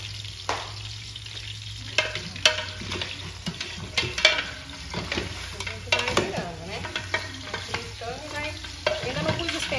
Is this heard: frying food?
yes